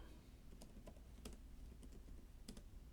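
Computer keyboard being typed on to enter a search keyword, a scattering of light, irregular key clicks at a moderate distance over a steady background hum, with no voices.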